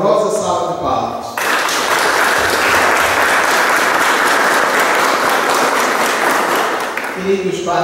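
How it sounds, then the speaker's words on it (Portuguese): A church congregation breaks into loud, sustained applause at a Sunday baptism service. It starts abruptly after a spoken line, continues steadily for several seconds, and fades as speech resumes. "uma calorosa salva de palmas"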